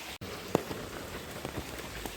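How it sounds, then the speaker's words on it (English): Steady, soft rain patters on surfaces in hilly Aizawl during the rainy season, with a few distinct drops standing out against the constant hiss. "It's not stopped. It's still raining."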